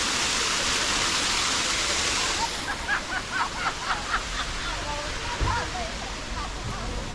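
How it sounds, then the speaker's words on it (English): A waterfall about an hour's walk from Gangtok in Sikkim, heard as a loud, steady roar of rushing water for the first seconds before it fades into softer background noise with a few brief sharp sounds. "this is the waterfall"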